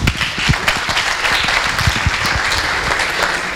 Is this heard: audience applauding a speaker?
yes